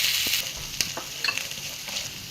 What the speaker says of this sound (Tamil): ஒரு 2 மினிட்ஸ் வதங்கட்டும்.